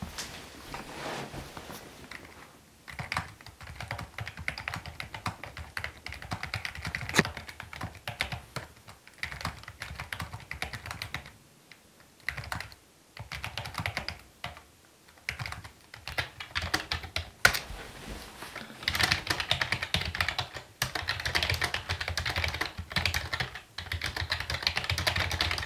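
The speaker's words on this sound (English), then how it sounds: "Now let me show you how this keyboard sounds when compared to a standard keyboard." Typing on a Logitech MK295 silent wireless keyboard set against a standard keyboard: dense runs of soft key clicks, quiet at first, then louder, sharper clatter in later stretches, with brief pauses between bursts and no talking.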